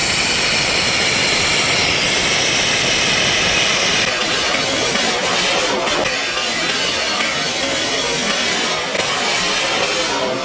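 A bang fai rocket roars off its launch base at the Ban Sai Ngam rocket festival in Thailand, a loud sustained rushing hiss that gradually softens as it climbs away.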